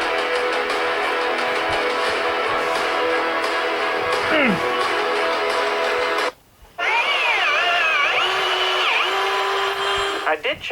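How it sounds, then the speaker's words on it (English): A power drill bores out a wrong-sized front leaf spring bushing on a car, whining steadily and loudly, with a short pause before running again under a voice. "First of all, the bushing on the front, wrong size. So I had to drill it out."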